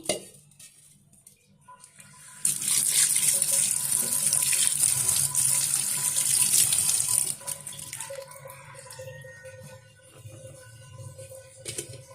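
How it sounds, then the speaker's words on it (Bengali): Papaya pieces in sugar syrup tip into a strainer, a steady close splashing pour that runs several seconds, then trails off into softer dripping and faint kitchen clatter. "আমি পেঁপেটা এখন ছাঁকনিতে ঢেলে নিচ্ছি"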